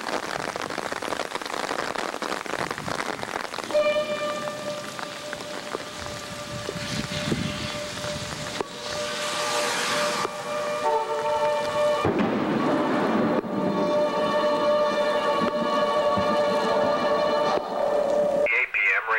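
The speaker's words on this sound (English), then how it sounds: "This storm is producing golf ball to quarter-size hail and very heavy rainfall." A thunderstorm with steady heavy rain, overlaid by a continuous electronic tone and radio-style broadcast audio.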